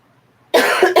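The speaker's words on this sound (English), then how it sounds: "Excuse me, because now I'm going to cough." One sharp, loud cough bursts out after a moment of near silence, followed by a short second catch of the throat, close to the microphone.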